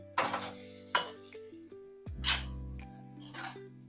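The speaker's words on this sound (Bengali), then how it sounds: "পরিমাণ মতো নুন আর পরিমাণ মতন চিনি এবার দিয়ে এগুলোকে নেড়ে নিচ্ছি" Grated potato with salt and sugar being stirred in a pan with a spatula for an egg snack recipe: a few scraping strokes over a faint sizzle and a steady background hum.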